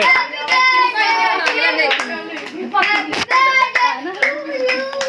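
A group claps along at a family birthday celebration, rhythmic hand claps mixed with voices, children among them, and singing, all close and lively.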